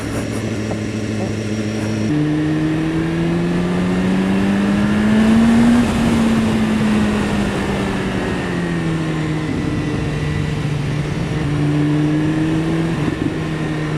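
A 2015 BMW S1000RR superbike engine drones loudly and steadily as the bike is ridden. Its pitch shifts up and down with throttle and gear changes, and wind rush runs beneath the engine note throughout.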